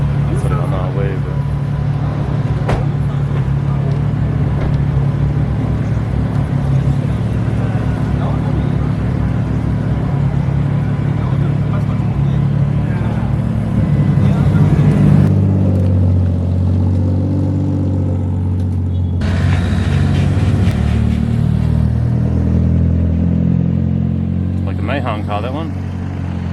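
A car engine runs loud and close with a steady low rumble that rises and shifts partway through as it revs and drives, with voices faintly present over it.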